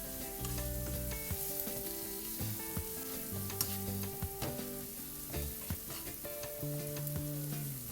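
Chicken stir-fries in a hot pan with chili flakes and black pepper, sizzling steadily while a utensil scrapes and clatters against the pan, no voices.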